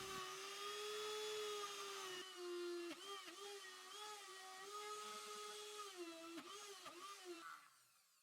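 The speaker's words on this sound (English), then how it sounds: "now it's time to pre-drill all the holes for the dowels" A power drill pre-drilling dowel holes in wood for a DIY kitchen helper stand, a steady high whining motor with brief pitch drops as the bit bites, running close for several seconds before winding down.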